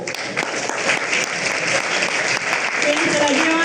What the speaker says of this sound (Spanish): Recibámonos con un fuerte aplauso